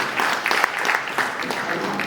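Steady applause from a crowd, clapping continuously and fairly loud throughout the short burst, with no voices over it.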